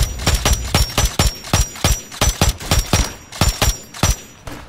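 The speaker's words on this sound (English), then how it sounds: "Ooh, mortar strike." A rapid barrage of heavy mortar strike explosions in Call of Duty: Warzone, about a dozen booming blasts landing in close succession, loud and near, with no talk over them.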